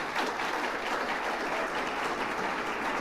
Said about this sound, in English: If you could keep the applause going for our panel up here